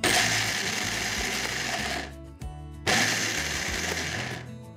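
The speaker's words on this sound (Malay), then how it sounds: "Masuk kacang dalam pengisar kering, kisar kasar." A dry blender grinds peanuts coarsely for a shrimp fritter and peanut sauce recipe, whirring loud and close in a steady motor roar that stops briefly partway through, then restarts and runs on.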